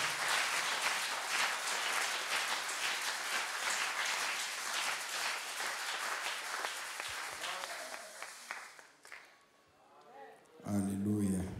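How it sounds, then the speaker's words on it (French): A church congregation bursts into dense, sustained applause during a sermon, the clapping filling most of the stretch before fading, then a brief loud voice rises at the end. "Donnons-lui quand même une acclamation."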